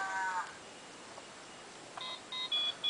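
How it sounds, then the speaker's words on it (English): Electronic beeps from a toy flip cell phone's buttons, a brief tone at the start and then a quick run of short beeps near the end, with a quiet pause between. "We pressed the button for the cell phone."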